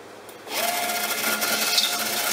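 A milling machine starts up at about half a second and tumbles computer chips for gold recovery, giving a loud, steady rattling churn with a brief squeal, running alone to the end.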